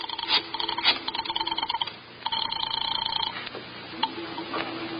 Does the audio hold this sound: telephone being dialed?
yes